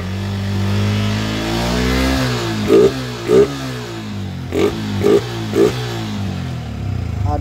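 A cold Yamaha New Vixion motorcycle engine idles, then gets several short, sharp throttle blips that rise and fall in quick succession, close and loud with no talk.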